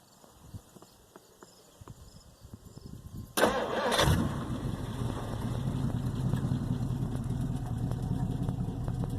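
A 1958 Plymouth engine with no exhaust system cranks briefly and catches on fast idle, then settles into a steady rumbling idle; faint clicks and ticking come before the start.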